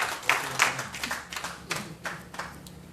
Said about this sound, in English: So you please give me another round of applause.